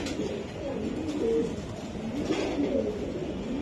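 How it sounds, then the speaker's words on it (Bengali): Racing pigeons in a loft give soft, low cooing that repeats through the whole span at a steady, moderate level, with no talking over it. "এটা কিছু স্পেশাল কবুতর"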